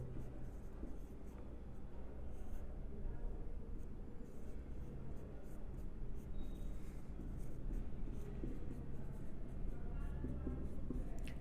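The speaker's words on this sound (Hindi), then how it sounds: "मैं यहां पे लिखता हूं," A teacher writing notes by hand during a lesson, with steady close scratching strokes running continuously, faint talk in the background.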